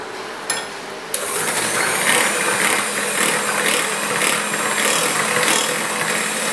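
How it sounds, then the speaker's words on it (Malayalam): An electric beater whirs steadily through carrot pola batter with sugar, a continuous near buzzing grind that kicks in after a couple of brief clicks and keeps going at an even pitch. "ഇനി നന്നായിട്ട് ഒന്ന് ബീറ്റ് ചെയ്യാം"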